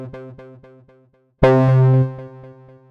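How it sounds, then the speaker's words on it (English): Repeated Squid SQ-3 synth stabs bouncing in a steady ping pong delay pattern, then a loud sustained synth chord swells in and its repeats continue trailing off. "Ping pong delay."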